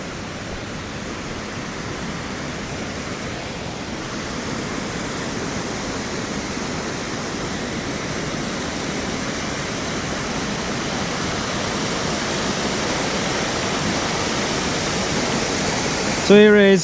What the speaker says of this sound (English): I hear a waterfall.